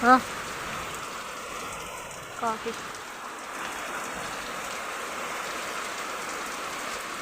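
Heavy rain pours outside during a thunderstorm, a dense, steady hiss of drops on surfaces that fills the whole stretch, with a few brief bits of speech over it.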